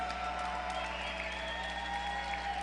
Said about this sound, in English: The crowd giving them what they deserve by cheering them on for that excellent fight